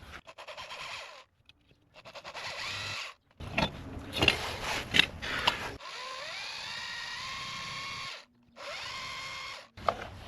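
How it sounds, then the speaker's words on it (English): A power drill whines in several bursts, stopping and starting, with grinding and rattling as the bit bites into hard material for nylon anchors while replacing an outdoor faucet, at close range. "we're just gonna drill so we can get these nylon anchors in."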